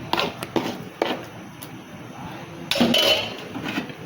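A metal lid is set onto a cooking pot of eggplant kuzhambu, giving a couple of light clanks and clinks close by, followed by a brief rattle of metal on metal.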